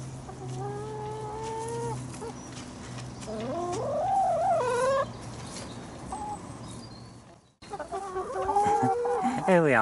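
Hens in an allotment pen clucking and calling close by, with several drawn-out rising squawks and a brief gap before more calls, loud and with no talk.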